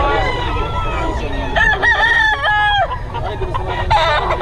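A banded rooster crows several times, loud and close, with clucking between the calls, while people talk nearby.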